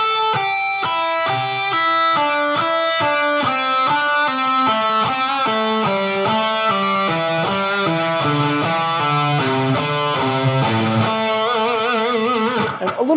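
Electric guitar with a distorted tone plays a simple pentatonic warm-up sequence: a steady, loud stream of quick single notes moving up and down, ending on a held note with wide vibrato.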